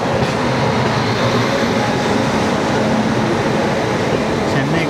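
The Chennai Egmore–Mangaluru Express passes close by, a loud steady rush of rolling coaches with rhythmic rail clatter throughout.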